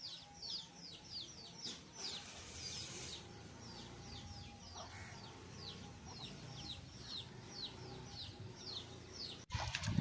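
Chickens cluck and chirp while eating kneaded flour, a steady run of short calls throughout, with low rustling and background activity underneath; a louder burst at the very end.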